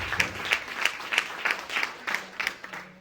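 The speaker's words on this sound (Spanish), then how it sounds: "Ofrenda de aplauso para Cristo." Rhythmic clapping from a church congregation, steady unison beats about three per second, moderately close and sustained throughout.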